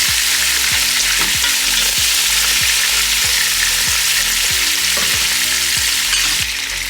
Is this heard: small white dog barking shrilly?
no